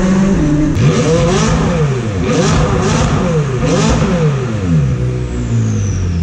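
A 2017 McLaren 570S fitted with an AWE exhaust revs repeatedly, its engine note swooping up and falling back in several loud, close blips that follow one after another.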